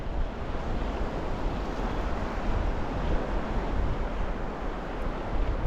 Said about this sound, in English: you've got to watch these waves when you're out here